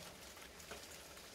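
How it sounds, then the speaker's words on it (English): Light rain falling steadily as a soft, even hiss of drops, quiet and continuous with no voices over it. "Light rain."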